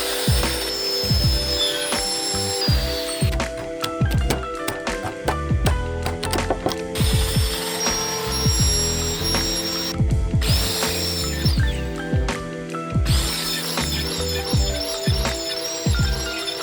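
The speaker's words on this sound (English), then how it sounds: "let's get to making some more dado cuts" Power tool cutting dado cuts in wood while building a chicken tractor, a steady loud whine of the blade with repeated rising and falling bursts as each pass bites through the board.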